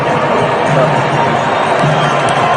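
A large crowd cheers in a dense, steady roar that holds at an even, loud level throughout, with a faint thump of feet beneath it.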